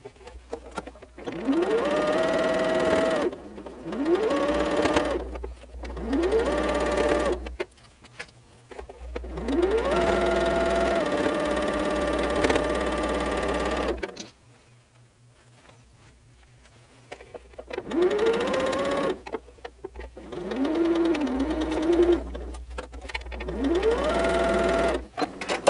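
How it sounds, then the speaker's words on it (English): A sewing machine stitches a barn star quilt block in several long runs, its motor whirring and rising in speed, with short pauses between seams and one longer quiet gap midway. "Okay, and now we sew."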